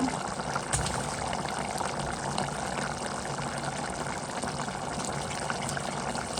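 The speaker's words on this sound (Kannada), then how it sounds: "ನೀರು ತೂದು ಪಾಡುವೆ" Steady rushing of water being poured into a palak chicken gravy, a continuous close gushing stream that runs without pause throughout.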